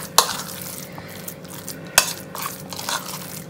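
Sweet green gram and jaggery idli batter stirred in a bowl makes soft wet scraping and mixing sounds, with two sharp clicks of a spoon against the vessel.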